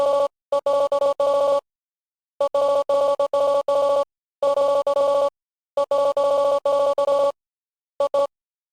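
Rapid ringing phone tone in the video game Undertale, loud bursts of electronic trilling repeating in separate groups with silent gaps between them and no voices.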